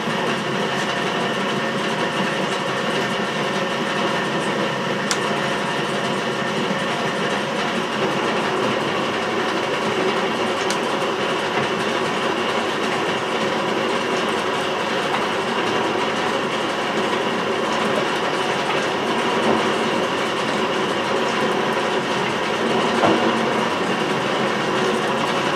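A milling machine fitted with a right angle attachment cuts chips in a steady, continuous drone with a rhythmic mechanical chatter, loud and close throughout, with no voices.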